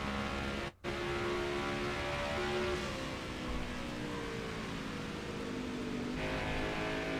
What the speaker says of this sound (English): Let me know if the engines are too loud